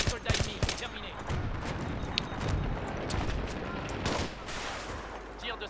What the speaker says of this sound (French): Tir de sniper dans votre secteur.